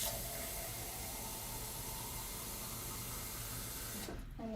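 Water runs steadily from a tap for several seconds, a close, even rushing stream that stops abruptly near the end, ready for soaking newly planted seed paper in a pot.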